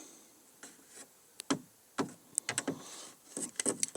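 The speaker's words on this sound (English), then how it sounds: "takes this door and slides it into place" Sliding door of a dog grooming bath, handled clumsily, giving a series of light knocks, clicks and rattles, sparse at first and then a quick cluster of taps as it slides into place.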